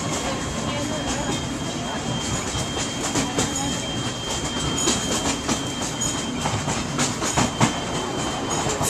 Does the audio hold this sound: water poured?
no